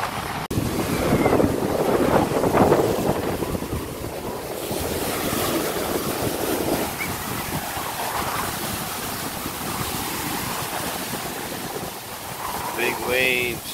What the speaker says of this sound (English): Big waves.